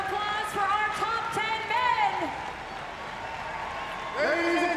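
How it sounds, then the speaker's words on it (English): A crowd at the 2019 Reebok CrossFit Games final event applauds the top 10 men, a steady roar of clapping and cheering beneath a loud announcer's amplified voice. "A big round of applause for our top"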